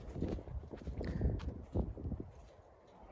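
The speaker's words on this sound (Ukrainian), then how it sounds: "Показую вам свої коні. Це є Володимирська порода" Hooves of Volodymyr breed horses, a bay mare and a filly, clip-clop irregularly at close range with a few heavier thuds amid rustling, and no talk.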